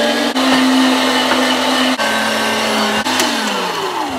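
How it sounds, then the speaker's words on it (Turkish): An electric meat grinder minces beef for döner, running as a loud, steady motor whine close by, briefly dipping three times as chunks load the mechanism, then its pitch sags slightly toward the end. "Şimdi kıyma makinemden geçiriyorum."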